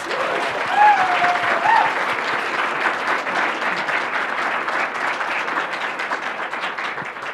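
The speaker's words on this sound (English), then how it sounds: "Can you all give Toby a massive round of applause?" A conference audience at a Python education track gives a student speaker a big round of applause, dense sustained clapping filling the whole stretch, fairly loud and even before tapering slightly.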